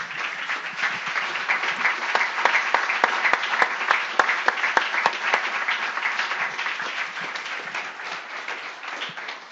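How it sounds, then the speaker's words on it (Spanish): A church congregation applauds, dense overlapping clapping that carries at a steady level for several seconds and tapers off near the end. "Dele un aplauso al Señor, hermano."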